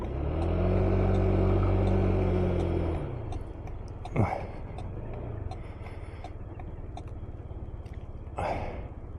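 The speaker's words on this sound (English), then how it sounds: "I think I might get in front of this car." A car passes on a wet, drizzly rural road, its engine rumbling loud and close before fading into steady road noise, with wind buffeting throughout.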